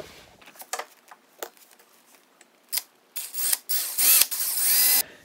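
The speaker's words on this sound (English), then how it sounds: "So that's all done up there. All the holes have been drilled. Now I'm just gonna do the bottom ones." Cordless power drill boring holes into an interior wooden door, starting with scattered handling taps, then several short whirring bursts that grow louder and longer toward the end, close and with no talk.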